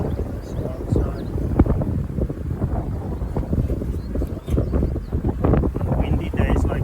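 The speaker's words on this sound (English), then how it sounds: "Windy days like this" Wind gusts buffet the microphone outdoors beside beehives during a South African summer, a steady rumbling roar with uneven surges, and a voice murmurs faintly underneath.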